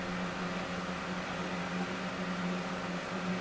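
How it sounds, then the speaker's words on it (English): A loud, steady cooling fan whir from an Everlast plasma cutter, with a constant airy hiss and low hum, unchanging throughout. "This fan is quite loud on this machine."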